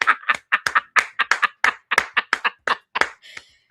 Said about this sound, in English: Give Edie Marie a hand clap of praise for her video